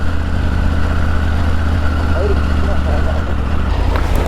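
Superbike engine rumbling low and steady while riding slowly over rough off-road ground past a village, with wind noise and someone talking over it.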